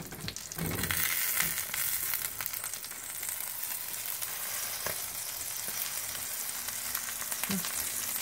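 Eggs and broccoli fry in a hot pan, a steady close sizzle running throughout with occasional scrapes and clinks as the food is stirred.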